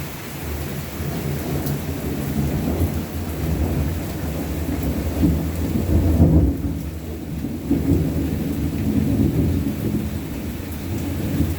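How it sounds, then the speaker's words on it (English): Thunder rumbles with steady rain during a thunderstorm in Boynton Beach, Florida, a loud, continuous low roar with a heavier peak of thunder around the middle. "We should have some big thunder."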